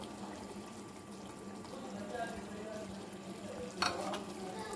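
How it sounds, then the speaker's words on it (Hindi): Yogurt goes into a chicken karahi already frying in the pan, raising a steady, fairly quiet wet sizzle and bubbling with light stirring, and a brief sharper clatter near the end. "अब इसमें मैं दही डाल दूँगी"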